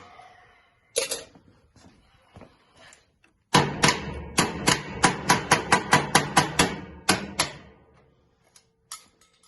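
Someone strikes at a laser engraver's emergency stop switch to knock it loose from its housing, making sharp, close taps and clicks. A single tap comes first, then a rapid burst of a dozen or so knocks before a few scattered clicks.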